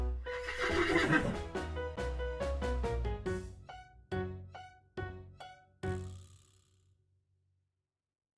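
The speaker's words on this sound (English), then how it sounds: "Horse." A horse gives a loud, wavering neigh near the start, over a rhythmic musical backing that thins into a few spaced hits before fading to silence.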